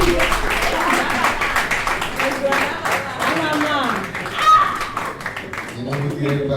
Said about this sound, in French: c'est pour ça que je vous demande d'applaudir